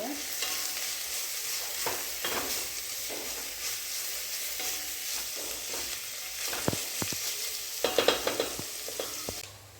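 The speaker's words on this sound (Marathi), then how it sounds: "आता सगळे गाजर टाकूया, त्यालाही 2 मिनिटं त्याच्यामध्ये मिक्स करून घेऊया।" Shredded cabbage and carrots stir-fry in a pan with a steady close sizzle, while a spatula scrapes and taps against the metal at irregular intervals, growing busier toward the end; no voices.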